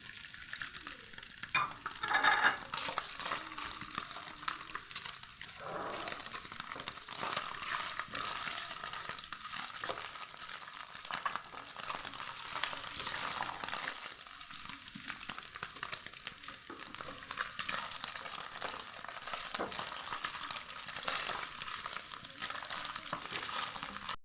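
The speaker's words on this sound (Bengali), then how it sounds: "তেলটা গরম হয়ে গেছে পনিরের টুকরোগুলো আমি ভেজে নেব হালকা ভেজে নেব" Paneer pieces frying in hot oil give a continuous soft sizzle and crackle throughout, fairly quiet and steady, with occasional faint stirring clatter and no talking.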